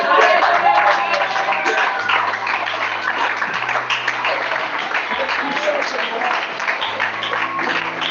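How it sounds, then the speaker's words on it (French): Church congregation applauding and acclaiming Jesus at a prophet's service, with dense, sustained clapping and crowd noise that fill the whole stretch over a steady low keyboard or bass line. "Tu vas acclamer Jésus, tu acclames Jésus."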